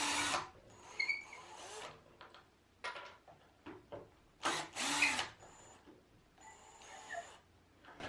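A power drill backs pocket hole screws out of glued plywood in a series of short whirring bursts separated by pauses, close and moderately loud, with occasional clicks and knocks of the wood between runs.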